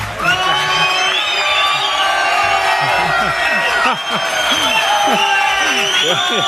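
A crowd at a Sabbath religious service cheers, whoops and applauds loudly and continuously, with excited shouting voices rising over dense clapping throughout.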